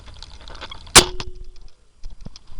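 An arrow strikes a homemade archery target once, a sharp close impact with a brief ringing tail, followed by faint rustling and small knocks.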